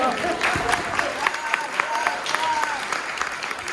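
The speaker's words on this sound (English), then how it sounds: "Can we give her a round of applause?" Steady applause from a crowd, many hands clapping in a dense, continuous patter throughout.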